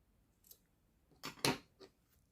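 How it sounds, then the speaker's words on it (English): Scissors snip through yarn during amigurumi crochet work, a few quiet close cuts and clicks in a silent room. "Now I will cut this yarn"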